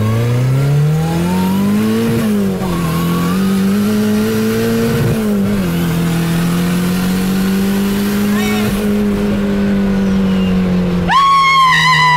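A 400-horsepower car, a 2019 model with xenon lights, accelerates hard and revs loudly and close, its engine note rising and falling steadily throughout with a brief higher whine near the end.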